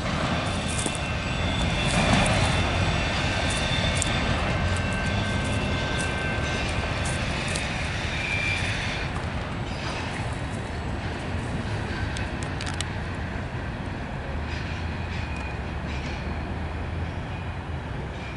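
A long, steady rumble of a westbound Union Pacific freight train, led by locomotive 6301 hauling autoracks and boxcars, rolling past in Battle Creek, Michigan, with clanking and rattling of cars and a faint high squeal, continuous throughout.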